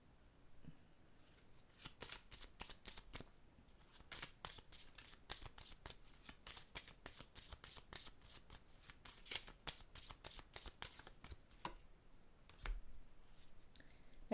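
A tarot card deck being shuffled close up, with dense rapid riffling and snapping bursts repeating steadily for the whole stretch, no talk.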